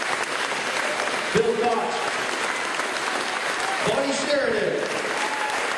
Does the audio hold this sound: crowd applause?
yes